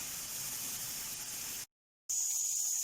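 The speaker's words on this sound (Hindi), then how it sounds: "ऑयल हाई फ्लेम पे पक रहा है और अंदर से हमारी चिकन भी रोस्ट होती जा रही है" Hot oil sizzling over a high flame as chicken roasts inside a pot, a steady loud hiss that cuts out briefly, then returns.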